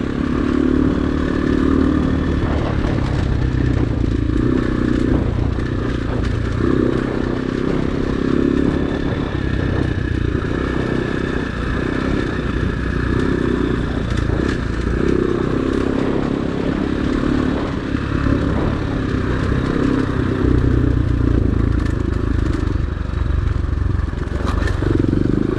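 An X-Pro Storm 250 dirt bike cruises along a leafy trail with a continuous close engine drone, steady throttle and occasional clatter from the terrain.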